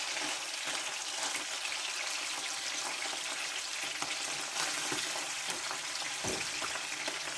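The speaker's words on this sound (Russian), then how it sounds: "обжариваю его" Bread with cheese fries in a pan with a steady, close sizzle and occasional soft scrapes and pops, with no talking.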